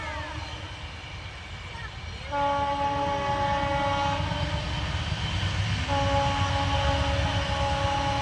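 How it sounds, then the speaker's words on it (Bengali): An express train rumbles past open green fields, its steady tonal horn blaring loudly through most of the pass over a constant low roar of the rails, with a few faint voices in the background. "এক্সপ্রেস ট্রেন যাচ্ছে"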